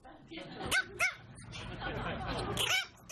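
Dog barking in a few sharp yips and barks, with whimpering bits between them, close and fairly quiet, mixed with a voice speaking underneath.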